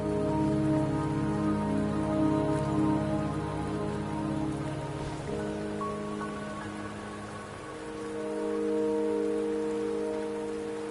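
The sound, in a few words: rain in video game Wuthering Waves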